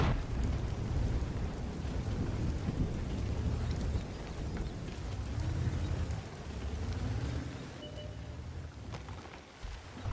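Heavy rain pours steadily in World of Tanks, with deep rolling thunder rumbling underneath throughout, loud and dense with no voices.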